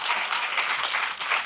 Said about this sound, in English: Let's just clap for them once more.